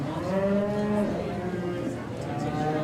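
Cow mooing at a county fair beef show during the cow-calf pair class, a long, low, wavering call that carries on for a few seconds, close and fairly loud over a busy arena background.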